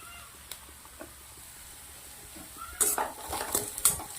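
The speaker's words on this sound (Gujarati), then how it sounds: "એને પણ ડુંગળી જોડે મસ્ત મજાના શેકી લેવાના છે" Onion, garlic and ginger sautéing in a pan for Indo-Chinese chilli okra, with a soft sizzle under faint clinks early on, then louder scraping spatula strokes and pan clatter in the second half.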